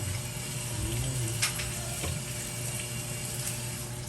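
Cooking oil heats in a pan to fry tofu, giving a steady, close, low sizzle and crackle throughout, with a couple of sharper pops and no talking.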